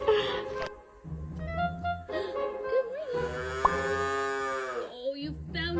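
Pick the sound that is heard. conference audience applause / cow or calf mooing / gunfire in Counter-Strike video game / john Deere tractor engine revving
cow or calf mooing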